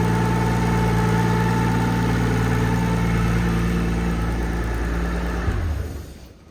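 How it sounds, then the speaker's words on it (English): Nissan Skyline R34 drift car idling steadily and loudly up close, with a thin whine from a worn input shaft bearing riding over the engine note before the engine cuts off near the end. "Input shaft bearing is singing."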